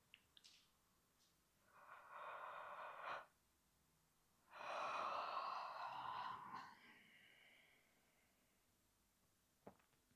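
During a gentle evening yoga routine, two long, breathy yawns rise and fade, one after the other, against near silence, followed by a soft exhale and a small click.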